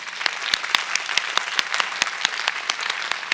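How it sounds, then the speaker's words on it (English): Audience applause for award winners at a library conference session, a steady patter of many hands clapping with sharp individual claps standing out, fairly close and sustained throughout, with no talking. "Can we give just one more applause for our fabulous winners?"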